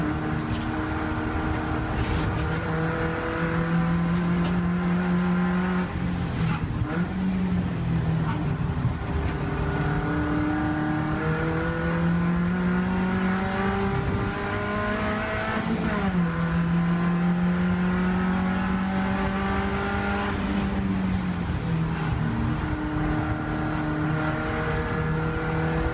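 Race cars lap the Rockingham circuit during a track day, a Golf and a Saxo among them, as a loud engine drone climbs and falls through gear changes continuously, close and unbroken, with no talk.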